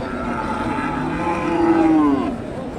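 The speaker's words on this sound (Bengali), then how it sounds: "ক্রোধ জাতের ষাঁড়।" A cross-breed bull at a cattle market in Bogura lets out one loud, drawn-out moo close by that swells and then fades, with faint market bustle behind.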